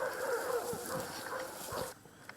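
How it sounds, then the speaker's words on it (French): Dogs bark faintly far off, scattered and irregular, under a hushed outdoor ambience while soldiers halt during a military operation. "Seuls les aboiements de chiens au loin se font entendre."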